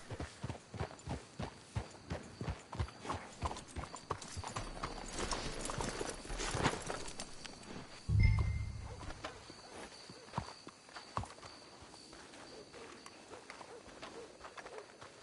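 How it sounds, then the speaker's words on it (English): Horses' hooves clip-clop at a steady walking rhythm in a video game, fairly close, with birds cooing in the background, a brief thud midway and the steps thinning out near the end. "Let's hitch the horses up ahead."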